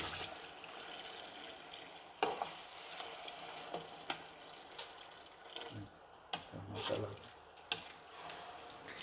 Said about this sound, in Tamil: இப்போ நான் வந்து வாட்டர் ஆட் பண்ணிடுறேன். தண்ணி ஊற்றுப்பா.